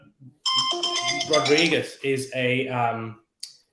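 A mobile phone ringtone plays a short, bright melodic tune over someone talking during a UFC 279 fight-card discussion, then cuts off.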